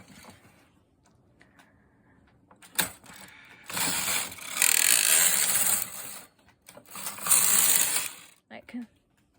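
A Brother standard gauge knitting machine carriage sweeps across lace rows on a punchcard setup, giving two long, loud mechanical rattling, clacking passes with brief clicks before and between.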